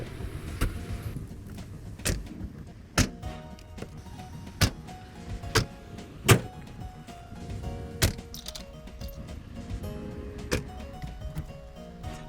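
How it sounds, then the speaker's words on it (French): A car being driven, heard from inside the cabin as a low steady rumble with sharp clicks and knocks recurring every second or so throughout. "Donc la voiture, voilà, c'est reparti en voiture."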